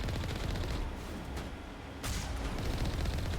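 Gunfire in the Mass Effect video game comes as a dense barrage of shots and booms under a busy battle din, with a sharper blast about halfway through.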